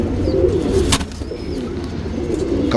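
Patta pigeon cooing in low, throaty pulses close by, steady and continuous with a brief sharp rustle or wing flick partway through.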